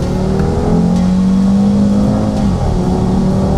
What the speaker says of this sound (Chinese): 你来听听看这引擎声浪，太夸张了。